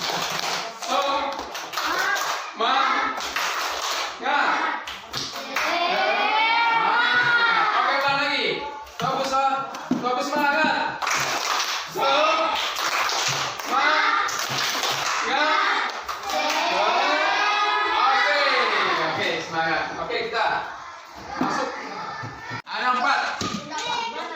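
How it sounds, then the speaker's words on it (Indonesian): A group of children performs the rhythmic Indonesian 'tepuk semangat' spirit clap, with crisp patterned hand claps in bursts alongside loud chanting and children's voices, all close and energetic. "Oke, tepuk semangat."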